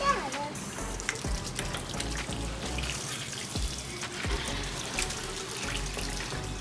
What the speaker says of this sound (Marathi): चल मग आपण पाईप बंद करून टाकू, नळ बंद करून टाकू.